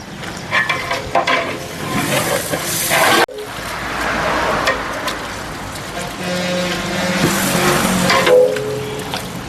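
Five kilos of tomatoes are stirred into a large pot of fifteen-kilo beef biryani, with continuous scraping and sizzling of the mixture in the pot, steady and fairly close.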